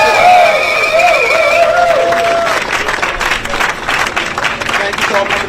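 A press conference audience breaks into applause for the 91st Amendment Institute, dense clapping with scattered cheers rising after a voice finishes speaking, loud and close, lasting a few seconds.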